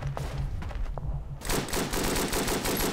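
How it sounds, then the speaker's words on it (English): Sustained automatic machine-gun fire in the WWI trench-warfare game Verdun, a rapid, loud rattling burst that grows denser and closer partway through, with no talk over it. "where the machine gun guy's firing right now"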